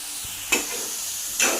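Chicken pieces fry and sizzle in a small pan, with a steady hiss and two brief scraping stirs of a utensil, no talking.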